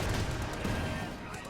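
Machine gun fire from a Panther tank in Company of Heroes 2 amid a dense, continuous battle din of overlapping gunfire and blasts, loud and close throughout.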